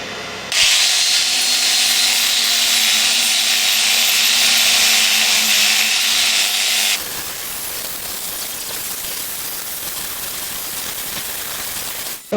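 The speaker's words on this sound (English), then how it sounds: "this has been cleaned up now with the 3M bristle brush" A 3M bristle brush spins against a carved beech bowl on a wood lathe, a loud steady high-pitched abrasive hiss for about six seconds before it cuts off, leaving the quieter drone of the running lathe.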